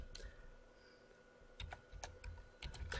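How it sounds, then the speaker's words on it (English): Fast typing on a computer keyboard while configuring a Cisco GRE tunnel, quiet close clicks arriving in quick irregular bursts with short pauses, no voice over them. "I type too fast."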